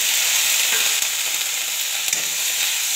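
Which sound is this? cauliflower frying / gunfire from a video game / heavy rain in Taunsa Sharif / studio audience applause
cauliflower frying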